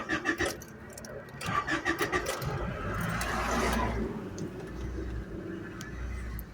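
A 1993 Honda Civic engine runs at a rough, uneven idle after starting, a low steady rumble with a surge partway through and some honk-like squawks early on, close and fairly loud.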